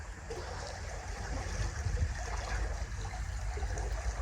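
Steady water pouring and flowing into a pond at a crucian carp fishing spot, a continuous broadband rush with low rumble, fairly close and unbroken, with no voices.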